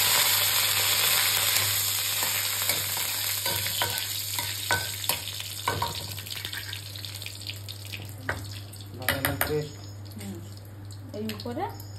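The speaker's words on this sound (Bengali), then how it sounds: "লঙ্কাটা ভাজা হয়ে যায়, তারপরে হচ্ছে করি পাতা দিয়ে দেবো।" Dried red chillies and curry leaves frying in hot oil give a steady sizzle throughout, with stirring clinks and kitchen clatter, a faint water-tap rush, and voices talking over it.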